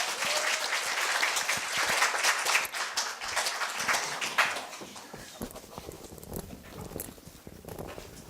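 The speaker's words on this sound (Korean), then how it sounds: "정다혜 학생에게 큰 박수 부탁드립니다" Audience applause for a middle school student speaker at a Korea University speech festival, a dense wash of clapping that swells in the first half and then thins out toward the end, with no talking over it.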